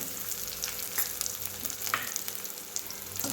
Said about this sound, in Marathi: मिरच्या छान परतून घेऊया म्हणजे आपण थोडंसं तिखट करून घेऊ